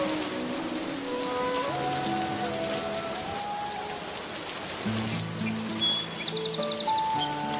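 Heavy cartoon rain pours down in a continuous, even hiss of drops on surfaces, accompanied by soft sustained musical tones and a brief high chirping near the end.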